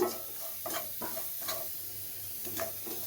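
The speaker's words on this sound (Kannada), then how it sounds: "ಇಲ್ಲಿ ಸ್ವಲ್ಪ ಬಾದಾಮಿ ಗೋಡಂಬಿನ ಎರಡು ಸೇರಿಸಿದ್ದೀನಿ ಇದನ್ನು ಸಹ ಇದ್ರ ಜೊತೆಗೇ ಸ್ವಲ್ಪ ಫ್ರೈ ಮಾಡ್ಕೊತೀನಿ" Almonds and cashews fry quietly in a pan over low heat for moong dal payasa, a soft continuous sizzle broken by a few scraping stirs.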